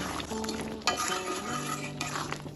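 Milk cream paste is stirred into a cooking dish with a spoon, giving soft scraping and clinking against the pot over a low sizzle, close and continuous for a few seconds with a faint background tone.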